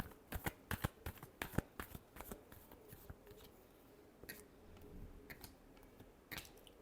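Tarot cards being shuffled in a run of quick, crisp riffling bursts, dense at first and then sparser, with a final flurry near the end; close and fairly quiet, with no voices.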